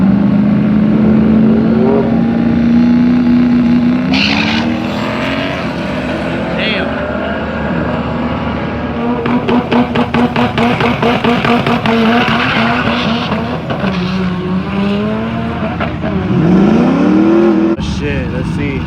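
A 300HP Subaru on slick tires lapping a race track, with engines rising and falling in pitch through shifts, rapid rev pulses and a squealing tire sweep near the end, while people talk over the loud racing noise.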